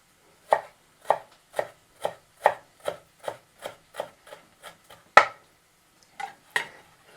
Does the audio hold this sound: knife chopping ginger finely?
yes